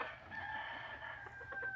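Broody Japanese hens cluck softly in their coop, a faint, continuous murmur of low calls with no talking.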